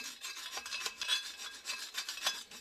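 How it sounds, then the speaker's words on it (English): Excess ashes are scraped off the sides of a Comfortbilt HP22N pellet stove's burn pot with quick, gritty rasping strokes, close but fairly soft, repeating steadily with no voices. "Scrape all the excess ashes off the sides."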